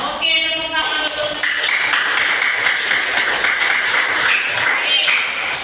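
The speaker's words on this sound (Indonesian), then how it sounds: "Oke, tepuk tangan dulu." Children in a school classroom clap their hands together in a loud, steady burst of applause that lasts the whole stretch, with a few voices rising briefly at the start.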